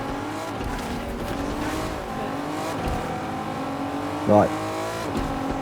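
Race car engines in the Fortnite video game drone and rev steadily while cornering, with a brief tire squeal near the end, under someone talking.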